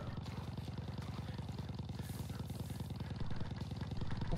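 A motorcycle engine from a video game rumbles in a steady, rapid low pulse that grows slightly louder toward the end, moderately distant and faint, with no voices over it.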